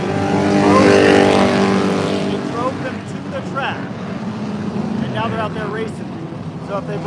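Race cars lapping an oval at Electric City Speedway, engines roaring loudly past then fading into a steady drone, with a person talking nearby throughout.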